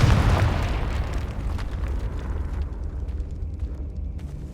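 A Confringo fire spell from the Hogwarts Legacy video game bursts in a loud, booming explosion at the start, then rumbles and crackles as it fades out over several seconds, with no voices.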